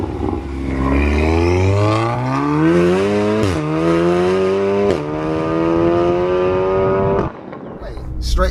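A 500bhp Littco stage 3 VW Golf R pulls away, the engine note climbing smoothly through the revs with gear changes, loud and close from inside the car, ending with a brief drop and a fresh rise.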